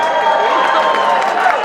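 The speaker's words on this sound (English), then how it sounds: "Let's get a round of applause for that." A crowd at a mule auction claps and cheers loudly, a dense, close roar of hands and voices filling the short moment without pause.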